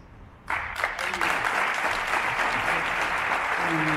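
An audience bursts into sustained, dense applause at a cultural week event at a school institute, the clapping starting suddenly and continuing steadily with faint voices beneath.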